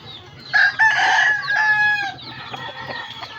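A gamecock rooster crows loudly and close, the long call trailing off into softer clucking with faint background noise.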